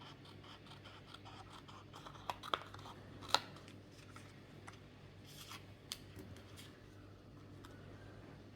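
Scissors snip through a paper card while cutting along a drawn line for a handmade floral greeting card: a few soft, close clicks and crisp cuts over a quiet room, with no talking.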